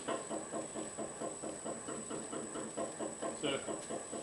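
A Monarch lathe idles at about 80 RPM, its back gears clattering with backlash in a steady, rapid, evenly spaced knocking rhythm over a faint mechanical hum.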